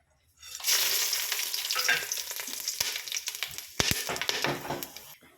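Bay leaf, cloves, cinnamon stick and stone flower drop into hot oil and burst into a loud, crackling sizzle. It stays strong for several seconds with sharp pops and a few clicks before trailing off.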